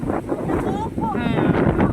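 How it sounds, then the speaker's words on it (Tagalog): Strong, cold wind roars and buffets the microphone throughout on Malabog Hills while people talk over it nearby. "Grabe ang hangin. Lamig ng hangin, ah."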